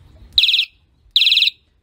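Electric unicycle horn giving two bright, high-pitched trilled chirps, each about a quarter second long with a short gap between them, loud and close against a quiet night-ride background.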